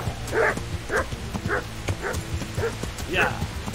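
Repeated barking from an attacking dog in the medieval game Kingdom Come: Deliverance, roughly seven sharp barks at a regular pace, near and prominent over low game ambience.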